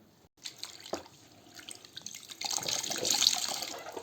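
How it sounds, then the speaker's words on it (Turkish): Water runs and splashes while a tulle curtain is washed by hand, part of a cleaning job on a heavily soiled sofa; the flow starts softly with a few drips and swells into a steady, close wash with no talking. "şöyle tül perdemi yıkayacağım"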